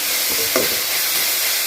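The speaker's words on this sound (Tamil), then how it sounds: "குயிக்காக வதங்கணும்" Capsicum sizzles loudly in a pan for capsicum rice, a dense close hiss throughout with a short scraping stir in the middle, with no talk.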